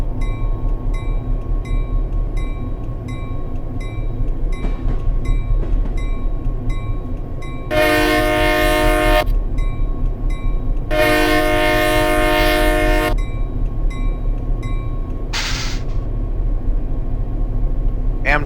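An Amtrak passenger train rumbles through Skykomish in winter, a steady heavy rolling drone under two long, loud blasts of the horn and a shorter third toot near the end.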